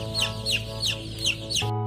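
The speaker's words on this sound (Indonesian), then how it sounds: "Ini ayam kampung kita sudah berusia 12 hari ya teman-teman." Twelve-day-old native Indonesian chicks (ayam kampung) peep and cluck in a steady run of high, falling chirps about three per second, close by over a low background hum.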